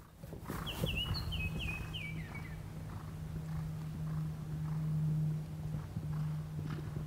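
Hooves of a big horse clip-clopping through a jumping clinic course, a steady walking rhythm with a low steady hum throughout and a short whistle-like tone early on.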